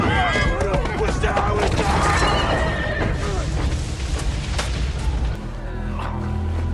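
A horse whinnies loudly during a frantic chase in which a stolen horse is ridden away from pursuing robbers, over a dense rush of hooves, dramatic rumbling and booms, with a voice talking over it.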